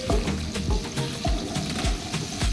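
Onions stirred as they fry in hot oil for Nigerian jollof rice, a soft bubbling sizzle broken by repeated knocks and scrapes of a spoon against the pot, close and with no talk.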